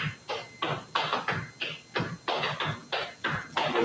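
Feet tap out a steady three-sound flatfooting walking step on a wooden floor in Appalachian style, with repeated crisp percussive scuffs and stomps in an even rhythm and no voices.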